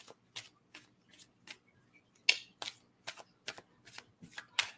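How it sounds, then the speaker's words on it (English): Tarot cards being shuffled by hand: a steady series of about a dozen crisp, close riffling snaps at a regular rhythm, with quiet gaps between them and no talk. "when I pull out the tarot cards"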